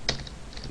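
Brief burst of typing on a computer keyboard while entering a line of Java code: a couple of soft key clicks within under a second, close and fairly quiet, with no voice.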